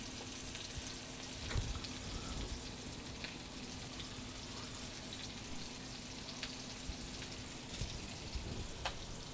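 Cod fillets frying in a skillet, a soft, steady low sizzle with faint scattered pops and crackles, quiet and even throughout with no talking.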